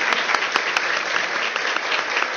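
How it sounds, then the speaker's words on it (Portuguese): An audience claps continuously at a talk on Chico Xavier's life and work, dense even applause with a few sharper individual claps standing out near the front. "Hoje vai ter aplauso"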